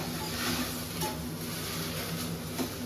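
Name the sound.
okra (ladies finger) frying in a pan until brownish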